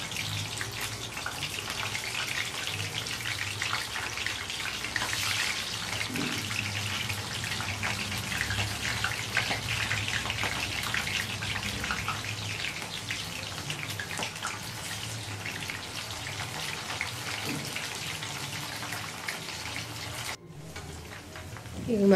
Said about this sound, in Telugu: ఇప్పుడు మనం కలిపి పెట్టుకున్న స్వీట్ కార్న్ని వేసి లైట్ గోల్డెన్ కలర్ వచ్చేదాకా ఫ్రై చేసుకోవాలి.